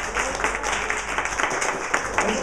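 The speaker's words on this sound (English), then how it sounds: "Shall we give them a big applause" A church congregation applauds with steady, moderately loud clapping that fills the room throughout, a few sharper individual claps standing out from the crowd.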